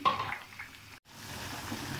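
Water is poured into a cooking pot of rice with potatoes and dried lentil dumplings, a short splashing trickle that stops abruptly, followed by a quieter bubbling simmer.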